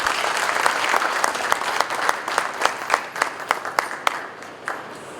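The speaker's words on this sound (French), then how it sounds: "Sous vos applaudissements," Audience applause in a hall at a ceremony welcoming a new patron, a broad wash of clapping with sharp individual claps standing out, thinning and fading toward the end.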